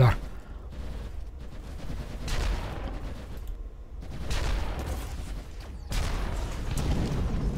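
Warships in the real-time strategy game Executive Assault 2 trade fire in repeated bursts of rapid gunfire and dull booms, a rattling barrage that surges and fades in waves over several seconds, mid-distance and moderately loud, with someone talking intermittently.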